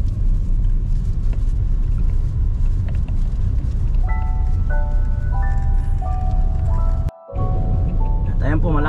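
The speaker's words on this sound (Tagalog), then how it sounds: "Ay, medyo traffic-traffic na ng kaunti." Road traffic rumbles steadily from inside a moving vehicle, a loud low drone with musical tones rising and falling partway through, under occasional talking, then cut by a brief dropout.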